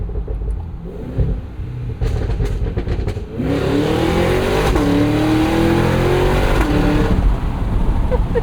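A 682 hp supercharged V8 in a 2025 Cadillac Escalade V rumbles, then surges as it accelerates hard, its pitch climbing through a gear change with a loud, throaty roar.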